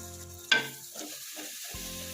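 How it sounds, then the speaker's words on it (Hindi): Tomato paste hits frying masala in a pan with a sudden sharp splash of sizzle, then a softer steady hiss continues, with a brief stir or scrape near the end. "अब मैं इसमें टमाटर का पेस्ट शामिल कर देती हूँ।"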